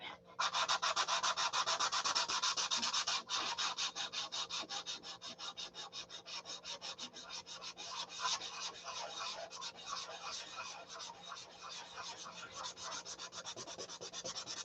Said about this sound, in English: So basically, this is a detail sand out.